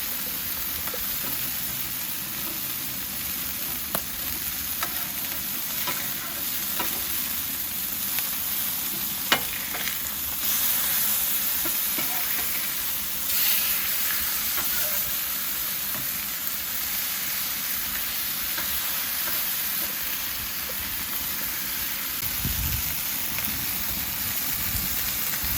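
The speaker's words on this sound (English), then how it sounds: "Flip them over and continue to sear the second side." Beef burger patties, Five Guys copycat style, sear on a hot griddle with a steady, even sizzle and crackle throughout, close and fairly loud, with faint scraping clicks and no talk.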